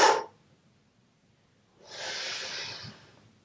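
A short sharp intake of breath, then after a pause a longer, steady breathy exhale during a Pilates exercise, close to the microphone and alone.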